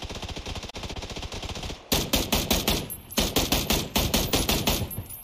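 Rapid automatic gunfire from the battle royale game PUBG rattles out in dense, close bursts, a long string followed by several shorter volleys, loud and with no talk.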